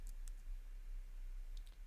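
Typing on a computer keyboard, a few quiet scattered key clicks in two small bursts, near but faint over a low steady background hum.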